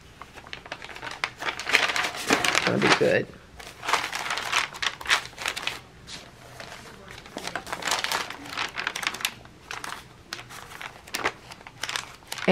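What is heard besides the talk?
flipping through stacks of decorative art papers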